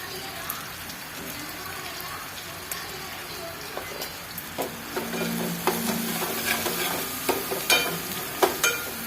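Onions, green chilies and turmeric are stirred in a frying pan, a soft sizzle under scattered scraping and tapping strokes that grow louder and more frequent toward the end.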